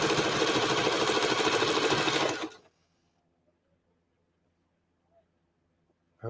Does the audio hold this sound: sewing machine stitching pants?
yes